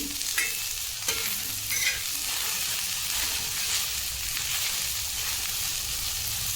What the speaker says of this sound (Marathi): भेंडी एक पाच सहा मिनिट छान असं भाजून घ्यायचं आहे